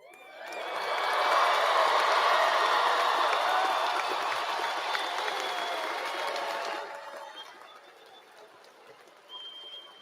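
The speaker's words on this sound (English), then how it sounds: "Yes, you should applaud yourself." Graduates and audience at a college of education commencement ceremony erupt in broad, distant applause and cheering that swells, holds for several seconds, then drops away to a quieter hall.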